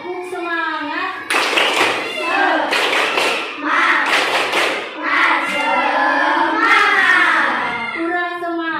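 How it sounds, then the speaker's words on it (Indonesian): A classroom of children performs a rhythmic spirit clap in bursts, sharp handclaps grouped in patterns, with kids chanting and calling out along with the clapping. "Ayo, tepuk semangat."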